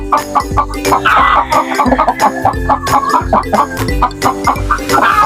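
Native chickens, including a rooster, cluck and call steadily and close by, a dense run of overlapping clucks with no pauses and no voices.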